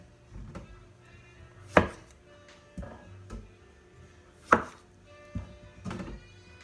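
A knife chops through potatoes on a cutting board in a few sharp, separate thunks spaced about a second apart, close and clear with quiet gaps between strikes.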